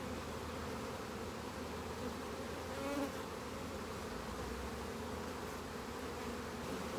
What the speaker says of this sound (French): Vous voyez la quantité d'abeilles?